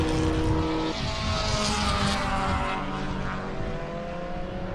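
Vintage race cars at the Spokane Festival of Speed, a loud sustained engine roar passing close by with pitch shifts as cars sweep past, continuous engine noise throughout.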